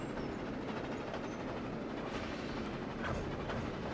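Train engines worked hard along the Ducken Railway line in the Trainz Plus simulator, a continuous rumbling roll of rail noise with faint rhythmic clatter and occasional hiss, steady and fairly quiet throughout.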